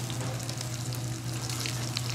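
Salmon fillet frying in a pan for a seafood brunch, giving a steady, close, even sizzle and crackle that runs unbroken throughout with no talking.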